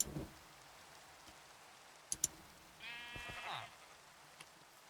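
A Minecraft sheep bleats once from inside a pen, a short wavering cry over a soft steady patter of rain, with a couple of faint clicks beforehand.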